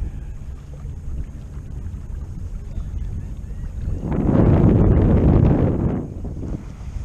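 A boat driven by twin trolling motors pushes through heavy marsh grass, giving a steady low rumble with wind buffeting, then a louder swishing surge for about two seconds midway before it eases off again.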